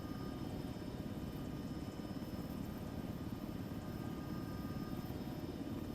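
Helicopter rotor and engine drone during a bleed flare landing in ArmA 3, a steady, loud, unbroken whir with constant low chopping and no pauses.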